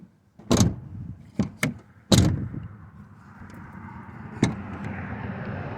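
A few sharp knocks and thuds ring out, then a car door shuts with a solid clunk, ending in a quiet hum.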